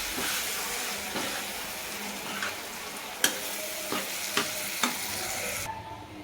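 A spoon stirs and mixes tempered rotlo pieces with yogurt in a sizzling pan. Soft scraping runs under a steady fry, and a few sharp knocks of the spoon against the pan come near the end.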